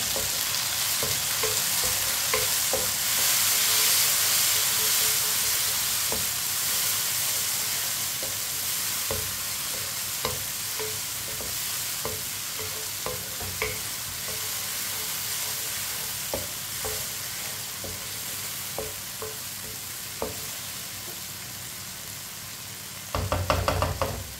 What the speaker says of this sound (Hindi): एक बारीक कटा हुआ टमाटर डाल लेंगे। 5 सब्ज़ मिर्च मिक्स कर लेंगे।